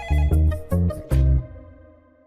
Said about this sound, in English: phones ping, ring, and buzz as tip-offs pour in